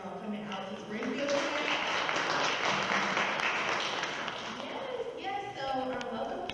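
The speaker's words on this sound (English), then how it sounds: "Give a round of applause for y'all coming out to Springfield." Audience applause at a Miss Black Illinois pageant museum exhibit event in Springfield, a broad wash of clapping that swells and holds for several seconds before tapering, with voices speaking over it at the start and end.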